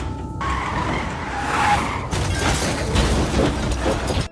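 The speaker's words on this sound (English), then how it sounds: "causing the car to overturn" A car skids and overturns in a loud, continuous burst of tire and mechanical noise with a brief shift partway through, heard alone without voices.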